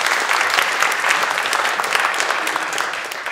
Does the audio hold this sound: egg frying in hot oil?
no